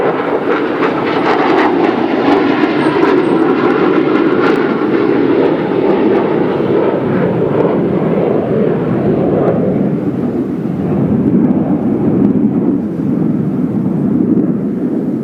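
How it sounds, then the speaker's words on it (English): A B-1 bomber from Dyess Air Force Base passes overhead on approach to the Midland–Odessa area, a loud, continuous jet roar that stays strong throughout and slowly shifts lower in pitch as it moves away. "That was the B-1 bomber flying from Dyess Air Force Base"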